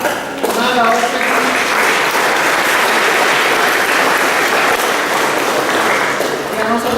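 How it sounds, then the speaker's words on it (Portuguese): A church congregation applauds for a baptized child, with steady clapping that swells quickly and holds through the whole stretch, while a voice speaks faintly at the start and end. "Também já temos uma salva de palmas para as crianças, para a criança que foi batizada"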